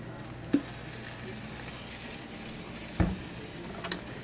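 Onions frying in oil in a pan after sausage has been cooked make a soft, continuous sizzle, with two sharp knocks of a utensil against the pan and no talking.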